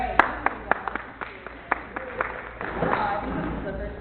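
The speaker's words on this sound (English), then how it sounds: "I think this is the first time I've gotten an introduction and rounds of applause before starting." A small audience at a Beaver Watershed Alliance meeting claps after a speaker's introduction, starting as scattered separate claps and thickening into brief steady applause toward the end.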